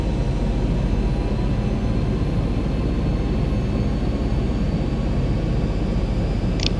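Boeing 737 airliner cruising on a stormy departure, a loud, steady roar of jet engine and airflow filling the cabin without pause, one faint high blip near the end and no talk.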